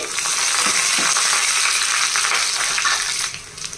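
Crushed garlic cloves and halved dried red chillies fry in hot oil for tempering, making a loud, close, continuous crackling sizzle that eases off slightly near the end.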